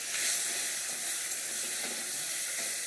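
Taro stems fry in hot mustard oil, giving a steady, close sizzle and hiss with faint stirring crackles and no talking.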